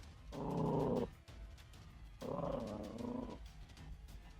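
A dog growls at night in two long, low rumbling bursts, each lasting about a second, with a brief pause between them. Both are close and fairly strong against a quiet background.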